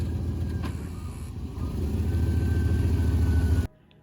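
A Jeep engine runs nearby, a low rumbling idle that swells slightly as it moves off, then cuts out abruptly at the end, with no talk.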